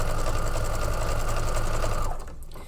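A sewing machine stitches a quilt's long frame pieces in a steady, fast, close mechanical whir that stops abruptly near the end.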